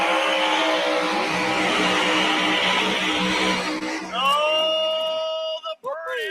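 A 1969 Camaro doing a drag-racing burnout at a nationals qualifying event: a loud, sustained engine roar with screeching tires, then high revving whines that rise and fall as the car pulls away, with an announcer talking over it.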